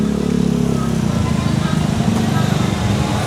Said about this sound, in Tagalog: Mga motor na lang.